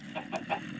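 Chickens in the Minecraft video game cluck in three short, close bursts spaced across a brief moment, with a low background hum and no talking.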